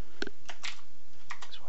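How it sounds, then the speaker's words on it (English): A computer keyboard gives a few sparse, crisp key clicks up close in a quiet room. "we're just going to type that in here"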